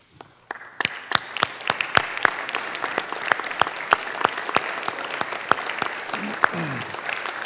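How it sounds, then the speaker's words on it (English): Audience at a church annual meeting applauding staff members, a steady burst of many hands clapping that fills the room, with the claps standing out sharply over the crowd noise. "I'd like to give them a big round of applause for all the work they do throughout the year"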